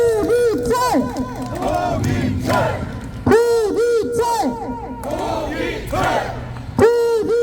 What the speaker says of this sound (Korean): 힘찬 박수 한번 쳐주시죠